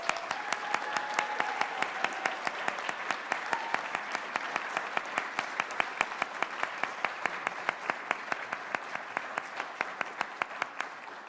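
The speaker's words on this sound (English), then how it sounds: "please join me once again in applauding all of our new Honor Society members" An audience at a National Honor Society induction ceremony claps for the new members, a sustained wave of many hands applauding at moderate distance, steady throughout before tapering slightly at the end.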